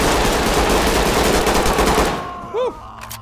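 Rapid automatic gunfire in the tactical shooter game Ready or Not, a loud dense burst for about two seconds that cuts off, followed by a brief electronic whine and quieter game sounds.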